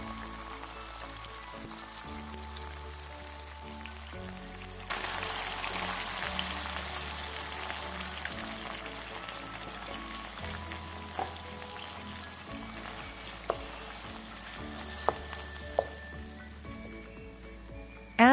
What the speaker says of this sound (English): Sauté the shallot in a pan with olive oil